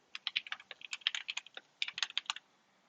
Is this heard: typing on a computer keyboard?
yes